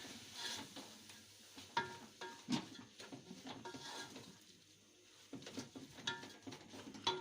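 Vegetables being stirred and mixed in a pan while cooking organic food, with soft scraping and clattering strokes at irregular intervals and a faint sizzle underneath, fairly quiet and close.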